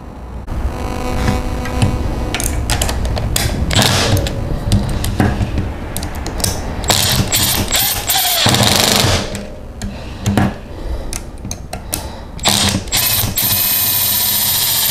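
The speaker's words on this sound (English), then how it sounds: "all you have to do now is just tighten the bolt" Continuous mechanical ratcheting and metallic clicking from a bolt being tightened on the sprocket of an electric bike conversion with a left drive kit, close and fairly loud with busy, irregular rhythm and no talk.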